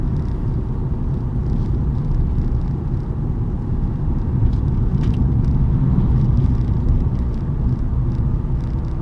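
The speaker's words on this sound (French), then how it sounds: "Ça c'est une Porsche. Beau bruit." A Porsche race car passes on the Francorchamps circuit, its steady low engine roar rumbling loud and continuous throughout, with no voices.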